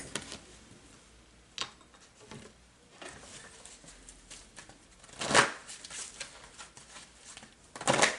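A deck of energy cards is shuffled for a reading for Earth signs. Soft papery rustling runs throughout, with louder riffling bursts in the middle and again at the end, and no one speaks.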